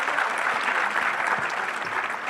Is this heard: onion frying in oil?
no